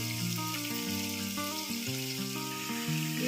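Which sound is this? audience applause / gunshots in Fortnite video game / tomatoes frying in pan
tomatoes frying in pan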